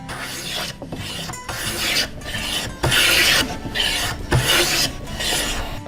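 Hand shoulder plane shaving wood in repeated rasping strokes, each a few tenths of a second long with short gaps between, close and fairly loud with no talk.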